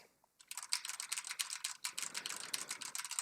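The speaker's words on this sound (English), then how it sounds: "this is me using the built-in microphone, typing on a Sherry MX Red gaming keyboard" Rapid keystrokes on a Cherry MX Red gaming keyboard, picked up by a headset's built-in microphone, clatter in a dense, uneven burst of clicks close to the mic after a brief quiet start.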